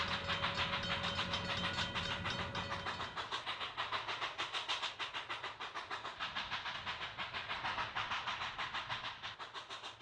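A model local steam freight train on a model railroad layout rolls past a rural county highway junction near a small-town gas station, a steady rhythmic clatter of wagons rising and holding close and loud, with a faint sustained whistle-like tone early on.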